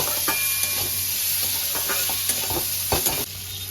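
Salted potato dish stirred in a hot pan, a continuous sizzle with a series of scraping spoon strokes and light clatter at an irregular pace, heard close with no one speaking.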